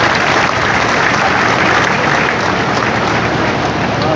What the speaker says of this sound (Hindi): जरा एक बार मुझे ताली बजा करके बता दीजिए आप